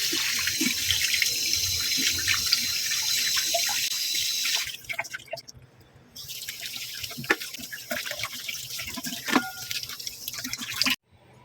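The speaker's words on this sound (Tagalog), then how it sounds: "malinis na yung pork bones. Nahugasan na natin." Pork bones being rinsed under a running kitchen tap, a steady broadband splash of water into a sink that briefly drops off and resumes with scattered drips and clinks, no voices.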